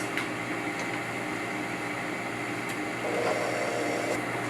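An electric mixer with a paddle attachment whirs steadily through cake batter, a continuous mid-level motor drone that grows slightly louder and fuller toward the end.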